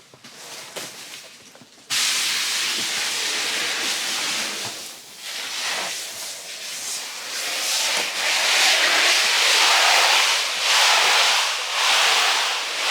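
Sanitizer sprays in a greenhouse, a loud continuous hiss that starts abruptly after a quieter moment and runs steadily, swelling and fading slightly as the spray moves around.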